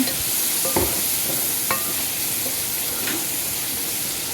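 Shrimp frying in a pan with turmeric, giving a steady close sizzle with a few sharp stirring scrapes and clicks of a utensil against the pan.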